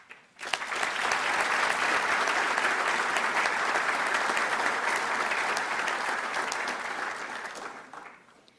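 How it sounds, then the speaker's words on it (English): A large audience at a U.S. Army Sergeants Major Academy ceremony breaks into sustained, dense applause that swells quickly, holds loud and even for about seven seconds, then tapers off. "one more round of applause for the book writing team"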